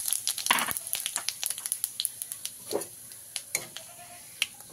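Whole cumin and garam masala crackle in hot oil as a tempering, scattered sharp pops and spatters at an irregular rhythm over a faint sizzle, busier at first and then sparser.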